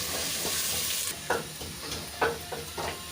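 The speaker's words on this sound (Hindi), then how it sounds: "अब हम इन्हें ब्राउन करेंगे।" Pounded onions frying and browning in a pan, a close, steady sizzle with a few brief stirring scrapes and taps against the pan, no talk.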